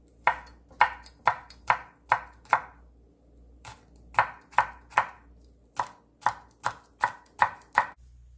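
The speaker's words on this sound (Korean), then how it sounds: "씨를 뺀홀고추를 송송송송 썰어줄게요." Knife chopping seeded chili peppers on a cutting board in a home kitchen, a steady series of crisp, close knocks in two runs of about seven strokes each, with a short pause between and no talking.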